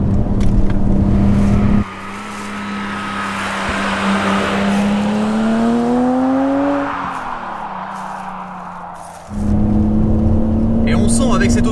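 BMW Z3 M Coupé engine carrying light throttle through a sequence of bends, a steady droning tone rising and falling in pitch as it eases off and picks up again, with a person talking over it.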